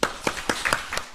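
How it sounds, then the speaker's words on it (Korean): Clapping welcomes a speaker during an Easter Sunday morning service at a Methodist church, five or six distinct claps spaced a little irregularly, fairly close and with no voices over them. "여기 박수로 환영하겠습니다."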